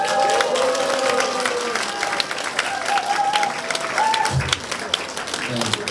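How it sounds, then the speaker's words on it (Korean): Applause from guests at the opening of a Reform Party candidate's election office in Hwaseong, steady crowd clapping filling the room with a voice over a microphone heard along with it. "박수소리가 조금 더 크셔야 됩니다"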